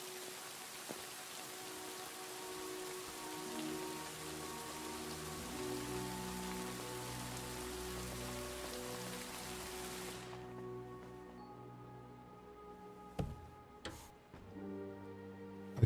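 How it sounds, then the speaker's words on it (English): Steady rain hisses and patters through the medieval game world of Kingdom Come Deliverance II, a constant wash under background music, thinning out after about ten seconds as a few sharp knocks cut through. "Bloody rain."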